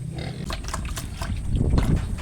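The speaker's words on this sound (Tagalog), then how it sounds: "Kakatapos lang natin magpakain ng ating mga alagang baboy." Pigs eat in a pen, with close, loud snuffling, grunting and wet chomping running continuously.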